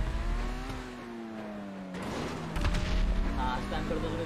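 In GTA V, an RPG blast destroys a car, a heavy boom with rumbling debris breaking out under excited gameplay chatter and racing engine noise.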